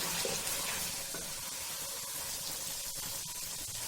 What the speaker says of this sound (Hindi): अब इस पॉइंट के ऊपर हम इसमें लहसुन अदरक का पेस्ट तकरीबन 2 टेबलस्पून के करीब ऐड कर देंगे और इसको 2 से 3 मिनट तक अच्छे से फ्राई करेंगे।